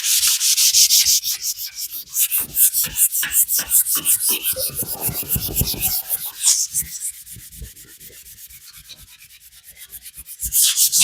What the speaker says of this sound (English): I'm just sanding it down to get the, the roughness that the high build primer leaves.